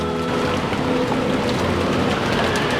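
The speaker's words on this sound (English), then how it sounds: "George Aniki and I flew into the rain." Steady, dense rain from the visual novel game Umineko, a continuous loud hiss of downpour with faint musical tones beneath, no voices present.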